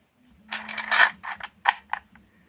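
A replica Ezio Auditore hidden blade springs out: a short burst of close mechanical clicks and creaking metal, with a couple of sharp snaps at the end and quiet before and after.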